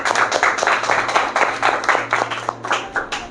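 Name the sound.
applause for the pastor at a church service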